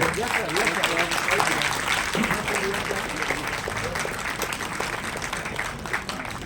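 Hall audience applauding in a dense, steady burst of clapping to welcome Shri Dindor at a Gujarat state and national awardee teachers' federation ceremony in Gandhinagar, sustained for several seconds and tapering slightly.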